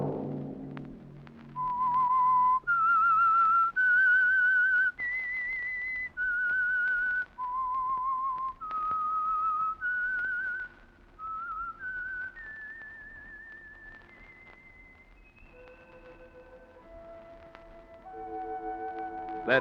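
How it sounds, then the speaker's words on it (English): A clear, solo whistled melody, the eerie signature theme of The Whistler radio mystery program, moves through sustained, wavering notes over a low hum, each phrase distinct and close. "Let that whistle be your signal for the Signal Oil program, The Whistler"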